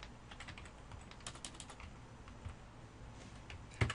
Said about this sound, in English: you can actually click over here in your code view and type information in